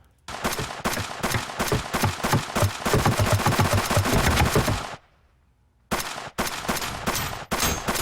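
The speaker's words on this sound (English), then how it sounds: "the gun sound sucks. It's like the same one over and over again" Rapid bursts of video game gunfire from a tech demo, the same shot sound repeated in loud, dense volleys that break off into a brief silence before the firing starts again, with no voices.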